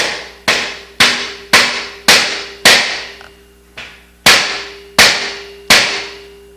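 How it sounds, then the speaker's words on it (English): PVC pipe fitting on a frame tapped with a hammer to compress the joint, about ten sharp, close, loud knocks at a steady rhythm, each ringing briefly, with one softer tap midway. "So I'm going to tap this now."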